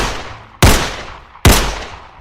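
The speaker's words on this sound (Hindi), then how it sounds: "गोलियां दाग दी।" Two loud, sharp gunshots fired at close range, about a second apart, each bursting out suddenly and trailing off in a ringing, echoing decay, in a retelling of the Benazir Bhutto assassination.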